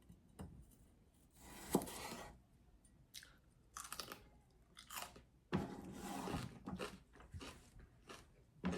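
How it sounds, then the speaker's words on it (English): Carrot sticks are crunched and chewed close up, with irregular sharp bites and grinding chews between quiet gaps. "I'm going to snack on some carrot sticks while the rest of this process happens"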